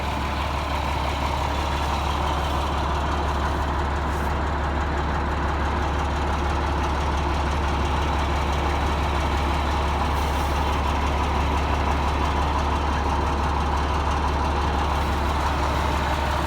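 A Ford L8000 grain truck with a 16-foot all-steel dump bed idles steadily, a loud, constant low diesel rumble with no pauses and no talking.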